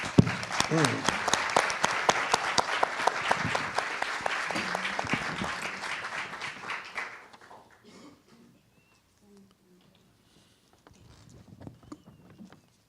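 An audience at a 2017 talk and music event breaks into loud, dense applause welcoming a singer to the stage, lasting about seven seconds before fading to near silence, with faint murmuring afterward.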